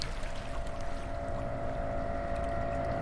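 A boat engine in Minecraft drones steadily with water churning beneath it, a constant low rumble and hum heard close up with no talking.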